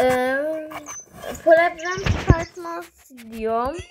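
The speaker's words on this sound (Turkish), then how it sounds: "Süper bir köpektir." A dog gives a series of high, wavering whimpers and whines, close to the microphone. The whines come in short bursts between moments of a person talking.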